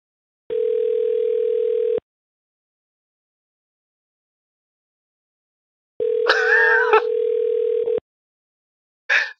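A telephone line tone plays while a call is being placed: two steady, fairly loud tone bursts of about one and a half seconds each, separated by a long silence, with a short unclear sound at the end.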